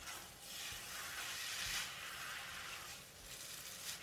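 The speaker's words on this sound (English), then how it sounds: "Stir until well combined." Tom Yum mee hoon with squid and prawns is stir-fried in a pan, giving a steady, close sizzle and hiss with faint scraping as it is stirred, without talk.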